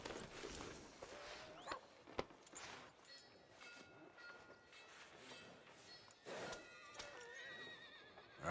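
A horse whinnies a couple of times in a video game, Red Dead Redemption 2, amid a busy mix of clatter and background noise, moderately faint and somewhat distant.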